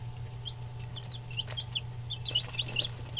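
Buff Orpington and Barred Rock chickens make high, short chirping and clucking calls, scattered and growing busier toward the end, over a steady low hum.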